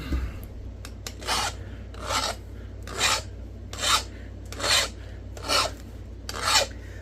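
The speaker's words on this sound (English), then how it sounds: "Sharpen this dude up a little bit." A heat-treated Edwards Plateau Frio flint point is sharpened with about eight evenly spaced rasping scrapes, close and steady, over a low background hum, with no talk.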